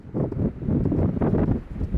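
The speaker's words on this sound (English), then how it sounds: "Now it is really windy at the moment" Strong wind at Alport Castles buffeting the microphone in a steady, roaring rush with gusty swells throughout, loud and close.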